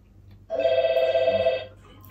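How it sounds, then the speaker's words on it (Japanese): A telephone rings once in a single steady electronic tone that lasts about a second, close and clear, with faint room noise before and after and nobody talking. "いいタイミングの電話。"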